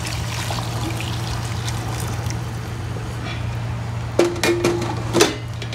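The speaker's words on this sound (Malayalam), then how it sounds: "അത് ചൂടാക്കിയ വെള്ളമാണ് ഒഴിക്കുന്നത്, ചൂടാക്കിയിട്ടുള്ള വെള്ളമാണ് ഒഴിക്കുന്നത്." Heated water pours into a pot for a Palakkad-style chicken biryani, a steady close trickle over a constant low hum, with a few sharp metallic knocks near the end.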